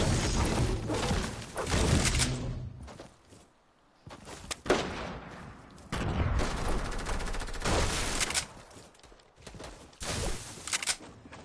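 AK rifle fire in a console shooter game, heard as several loud bursts of rapid automatic gunfire separated by short gaps, alone without voices.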